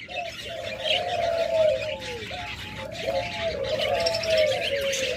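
Caged pet doves for sale coo and call repeatedly, close by, in soft rolling phrases over a low background murmur, while other birds chirp faintly in the background.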